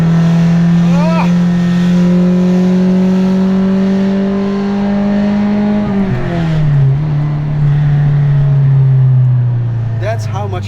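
A vintage Ferrari engine revs hard while driving, a loud, close, sustained tone that climbs, then drops sharply as the gear shifts and falls again, with a brief extra burst near the end.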